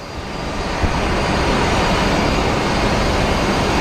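A Delta airliner in flight at Phoenix Sky Harbor Airport, its engines giving a steady, loud broadband roar that swells slightly in the first second and then holds evenly, with no voices.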